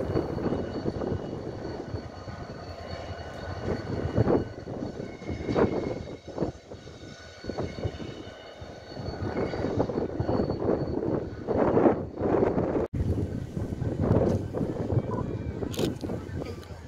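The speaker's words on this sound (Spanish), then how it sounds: "La locomotora 333, las míticas 3000." RENFE class 333 diesel locomotive running during a reversing manoeuvre at Carbajales de Alba station in Zamora, Spain, a loud droning engine rumble with rising and falling surges and some wind buffeting nearby.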